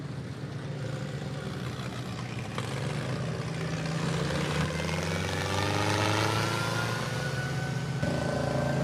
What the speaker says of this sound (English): Here comes his brother out on the 5020 John Deere